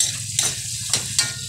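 White onions and potatoes frying in a pan, a steady soft sizzle with a few brief stirring scrapes.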